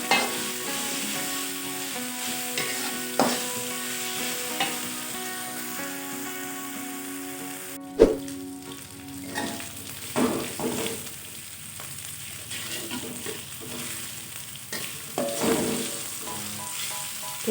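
Spices stir-fried in oil in a pan for tumis babat, a steady crackling sizzle throughout with periodic spatula scrapes and a sharp clank midway, no voices.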